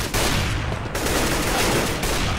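Rapid gunfire in Counter-Strike: Global Offensive, a dense continuous fusillade of loud shots filling the whole moment with no speech over it.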